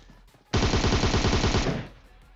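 A DP machine gun fires a loud, rapid sustained burst of about one second in a battle royale video game, sharp and close, followed by a short fading tail.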